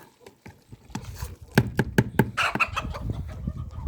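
Chickens cluck on a farm among sharp knocking taps, probably while a mix of bran, bread and feed is served to the poultry. The sounds are close and repeated, with a denser cluster of clucks midway.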